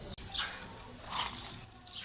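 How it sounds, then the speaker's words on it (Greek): Water poured onto a layered garden planter of cardboard and soil, a steady splashing gush rising and falling near at hand with no voices. "Και τώρα θα βάλουμε λίγο νερό, έτσι ώστε όσο είναι να κάτσει."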